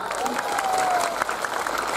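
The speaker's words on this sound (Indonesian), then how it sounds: "Tepuk tangan untuk Pak Lurah." A crowd at an Islamic religious gathering applauds the village head, a brief burst of steady clapping with some faint cheering mixed in.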